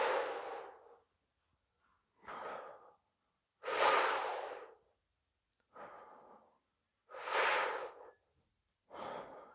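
Deep rhythmic breaths of a Tummo breathing exercise, six strong airy inhales and exhales alternating in steady cycles. Each one rushes in loudly and cuts off into short silences, with no talk.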